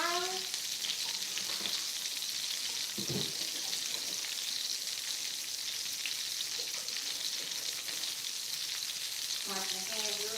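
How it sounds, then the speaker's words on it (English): Meatballs sizzle and crackle steadily in a hot pan, a constant bright hiss with occasional faint clinks and soft background noise. "while those meatballs are frying"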